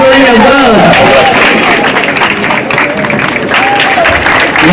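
Audience applause at a matriculation ceremony, loud and sustained clapping from a large crowd with voices and cheering mixed in throughout.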